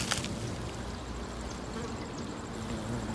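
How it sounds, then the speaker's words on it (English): Honeybees and big black bumblebees buzz around a garden outdoors, a steady, even insect drone that holds through the whole stretch at moderate loudness, with no voices over it. "My little honeybees. And then I have these big black bumblebees too."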